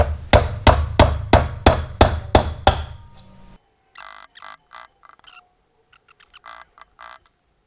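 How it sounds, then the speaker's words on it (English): A big hammer strikes a punch against a bearing in the left case half of an 86 Shadow 500 engine, about seven loud, evenly spaced metallic blows close by, followed by quieter clinks and tool handling. "I'm using this big hammer."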